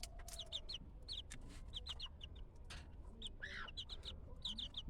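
Eighteen-day-old native desi chicken chicks cheep in quick, high, repeated peeps, close and continuous, scattered over a steady low background rumble.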